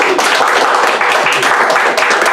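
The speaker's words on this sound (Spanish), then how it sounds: "les saluda y les da un aplauso." A church congregation applauds together, a steady dense wash of many hands clapping that fills the whole moment at fairly loud level without pause.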